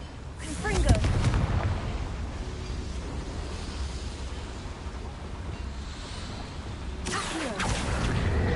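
A Confringo spell blast in the Hogwarts Legacy video game, a sharp fiery explosion with crackling burst near the start, a low rumbling tail, then a second blast rising near the end.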